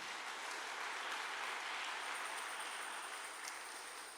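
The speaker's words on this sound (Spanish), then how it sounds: "Dale un fuerte aplauso al Señor." A church congregation claps in sustained, even applause, fairly soft and distant-sounding, with no voices on top.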